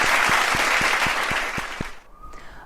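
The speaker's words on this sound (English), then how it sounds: "A big round of applause." Awards ceremony audience applauding, a dense wash of clapping over a steady thumping beat of music, both cutting off abruptly near the end, followed by faint room noise.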